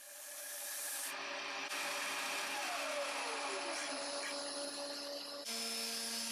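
Belt and disc sander working hard oak, a steady, close whirring drone with a scraping rasp that rises and falls as the wood is pressed against it.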